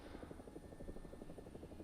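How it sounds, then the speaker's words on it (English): Helicopter rotor chop from the War Thunder video game, a steady rapid pulsing thump with a faint high whine, heard alone and fairly quietly. "it's just an amazing helicopter"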